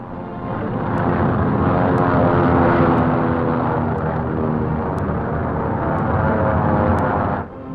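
Allied aircraft towing gliders toward the French coast in 1944, a steady loud droning engine roar that holds evenly throughout with no other sounds.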